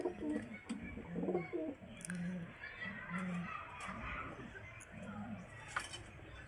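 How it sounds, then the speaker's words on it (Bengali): Pigeons coo in a rooftop loft where each bird sits in its own nest box, soft repeated throaty calls close by, with a person talking quietly over them. "আর ওই যে দেখছেন যার যার বাসাতে এক একটা খোপে একটা একটা করে পায়রা আছে।"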